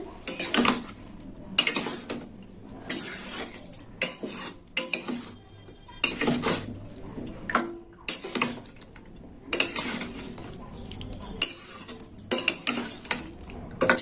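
Ingredients for a red potato curry are mixed by hand in a bowl, producing a series of irregular wet squelches and clinks of the container in short bursts, close and moderately loud.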